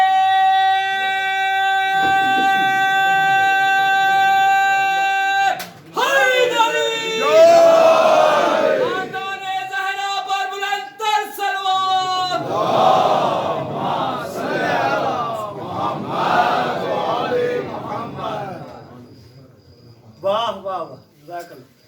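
A crowd at a Shia majlis religious gathering chants slogans in loud, rhythmic unison. The chant bursts repeat with short breaks, and a steady tone hums at the start.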